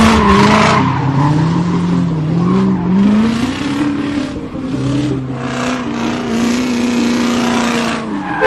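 A car driving at high speed keeps up a loud, continuous engine roar while its tires squeal and skid in long wavering tones that rise and fall throughout.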